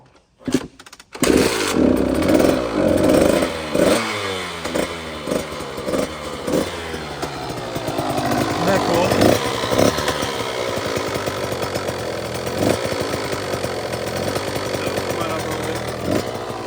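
A mini bike engine of 85 to 112cc, fitted with a Lectron Billetron 29mm carburetor, starts after a brief pull and runs close and loud, revving up and down with rising and falling pitch before settling into a steady buzzing idle.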